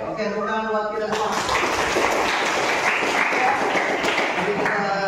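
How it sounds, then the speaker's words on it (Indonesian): Classroom of students breaking into applause after a short stretch of a voice and background sounds, the clapping dense and steady, filling the room at close range until the end. "tepuk tangan buat kita semua"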